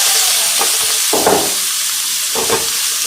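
Shredded cabbage tipped into hot oil already crackling with mustard seeds and cumin, giving a steady close sizzle with louder bursts of hissing as the vegetables hit the pan.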